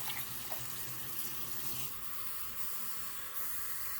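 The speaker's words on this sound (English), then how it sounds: "I'm going to start by adding 2 cups of water" Water pours steadily into a pressure cooker for ham bone soup, a continuous soft splashing rush that runs the whole time at moderate, even loudness with no talking.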